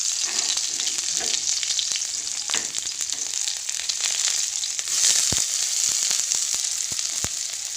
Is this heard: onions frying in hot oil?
yes